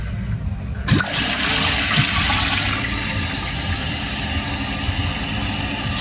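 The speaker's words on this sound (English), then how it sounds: "I'll turn it on again, just so you guys can see." A toilet with a chain-pulled flapper whooshes into a flush after a short quiet start, then settles into a steady, loud rushing hiss as the tank refills, close by with no voices.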